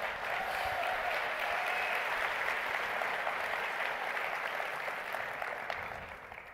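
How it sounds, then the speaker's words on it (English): A keynote audience gives a sustained round of applause, steady dense clapping that stays loud for several seconds before starting to fade at the end. "Thank you. Big round of applause."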